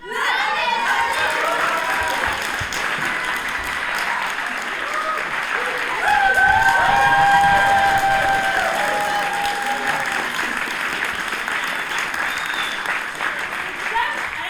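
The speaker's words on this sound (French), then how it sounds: "On peut également remercier et applaudir Inès." A theatre audience bursts into sustained applause for Inès after a student play, loud and dense with scattered cheers and shouts, swelling midway and continuing to the end.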